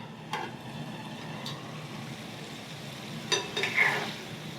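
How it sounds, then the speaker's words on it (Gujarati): A spoon scrapes a pan of cooking cauliflower and potato curry in a few slow, soft strokes, with a light sizzle underneath and no talking. "વચ્ચે આ રીતે ધીમે ધીમે હલાવતું રહેવાનું।"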